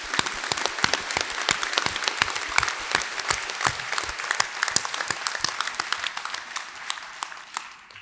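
A graduation ceremony audience claps steadily and loudly in a hall at Monash Malaysia, dense overlapping applause sustained throughout before tapering slightly at the end.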